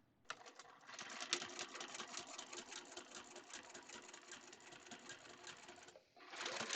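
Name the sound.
sewing machine stitching a quarter-inch seam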